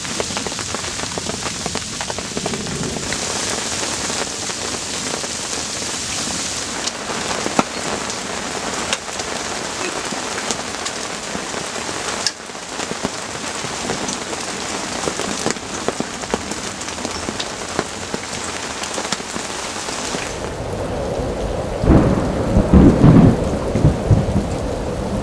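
Heavy rain drums steadily on surfaces through a night thunderstorm near a lake on a road trip, with rumbling thunder rolling in and a loud, close crack of thunder near the end; no voices.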